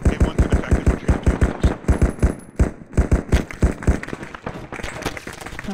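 Loud, close machine gun fire in Arma 3 rattles out in long rapid bursts with only a brief pause, the shots running nearly continuously throughout.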